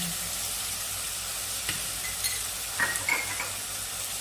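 Cumin and chili powder sauté in a pan with a soft, continuous sizzle, broken by a few light scrapes and clinks of a spoon toward the end.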